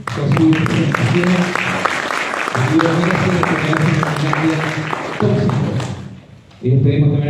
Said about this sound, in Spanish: le repetimos el aplauso a Sergio por su presentación.